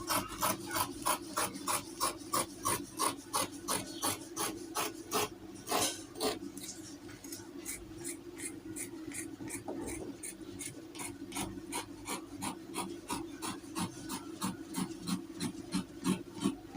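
Fabric being cut out for a Caribbean balloon-sleeve dress, a steady run of rhythmic rasping snips close to the microphone with no talking, slowing briefly midway before the even cutting rhythm resumes.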